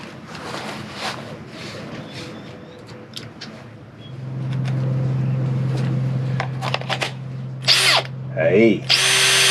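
Power drill driving gearbox screws on a boat, heard after scattered handling clatter as a steady whirring buzz lasting several seconds, then short bursts and a rising whine near the end, close and loud with no talk.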